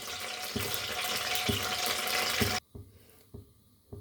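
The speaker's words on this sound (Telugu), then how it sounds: "ఈ మాత్రం నీళ్ళు పోసుకొని గోంగూర ఉడకపెట్టుకుందామండి" Water runs steadily for a couple of seconds into a pot of gongura leaves with rhythmic knocks, then cuts off abruptly, leaving quiet clinks and faint movement.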